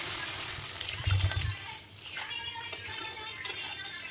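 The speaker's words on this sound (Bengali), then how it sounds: "নিয়ে তার মধ্যে জল ঢেলে দিলাম।" Water poured into a pan of vegetables being cooked for a vegetarian soybean curry, a soft splashing gush followed by quieter trickling and faint sizzling nearby.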